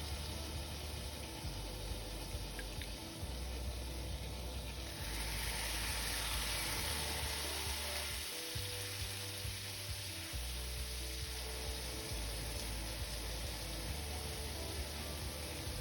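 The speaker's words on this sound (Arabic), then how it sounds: "انا عندي الشواية دي بسخنها الاول على درجة حرارة عالية وابتدي احط عليها الفراخ. مهم قوي نسمع الصوت ده." Chicken pieces sizzling on a hot grill preheated to high heat: a continuous, fairly quiet crackling hiss with a low hum beneath, swelling briefly as more pieces go down, with no talking.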